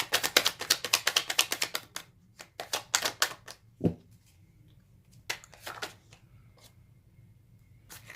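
Tarot cards are riffled and shuffled in a rapid burst of crisp flutters, followed by a few scattered slaps and flicks as a card is drawn from the deck, heard close up and alone with no talking.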